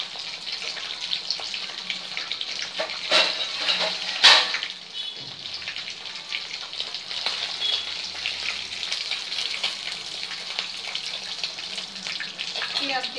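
Rohu fish pieces frying in hot oil, a steady hissing sizzle heard close up for the whole stretch, with a couple of brief clatters and a faint voice in the background.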